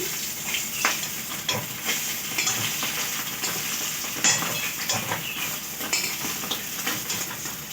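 Cut rohu fish fillets sizzle and spit steadily in hot oil in a pan, joined by repeated scraping and clinking of a metal utensil as the pieces are lifted out.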